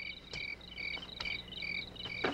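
Crickets chirping in a steady, rhythmic pattern of short repeated trills with faint clicks, moderately quiet and alone with no talking.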